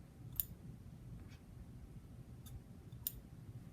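Scissors snip thread tails on freshly sewn pajama pants: a few faint, sharp close-up clicks spaced apart over a soft background hiss.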